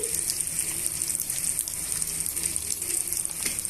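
Ginger garlic paste frying in a pan for a broad bean masala curry, a continuous close hissing sizzle that holds steady throughout with no talking.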